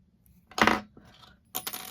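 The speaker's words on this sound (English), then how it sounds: "so I am going to cut some off." Scissors snip through yarn in a few short, close clicks and crunchy cuts, quiet and isolated with near silence around them.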